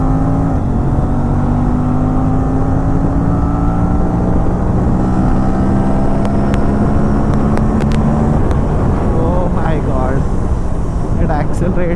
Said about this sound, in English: I'm not giving full throttle continuously. I'm gradually accelerating it.